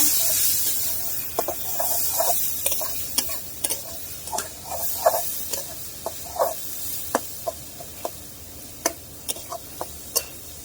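Onions sizzle in a hot pan, a steady hiss broken by a series of sharp pops and scraping stir strokes at an uneven pace.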